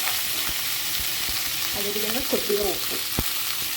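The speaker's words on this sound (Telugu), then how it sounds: "ఇప్పుడు ఇదే ఆయిల్లో మనం ఈ వంకాయలను కూడా ఫ్రై" Brinjals frying in oil with turmeric in a pan, a steady hiss of sizzling with soft stirring clinks, and a voice talking briefly over it.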